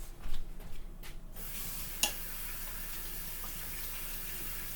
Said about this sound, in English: I'm gonna go ahead and wash my hands.